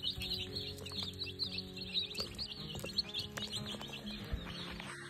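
Many meat chicks chirp together in a brooder, a steady busy chorus of high peeping at moderate level with faint low background hum, no talk.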